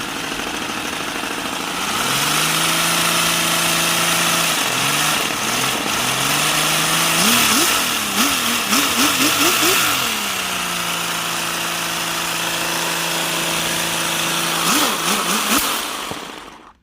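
A small 3D printed model V6 engine drones steadily at idle, with its pitch rising and wavering through a few throttle blips before settling back to a smooth, continuous hum.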